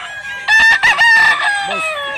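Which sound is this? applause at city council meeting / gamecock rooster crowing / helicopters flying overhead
gamecock rooster crowing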